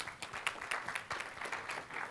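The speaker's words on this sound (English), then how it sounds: "Quick round of applause for Helen." Quick, faint round of audience applause at an affiliate marketing conference session, scattered claps rolling steadily for a couple of seconds.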